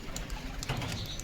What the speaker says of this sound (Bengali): পায়রাটা দেখো গাইস